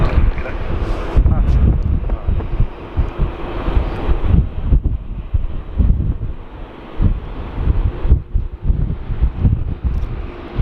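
A strong westerly wind gusts across Sydney Airport. It is a loud, rumbling roar that rises and falls, with low buffeting against the microphone.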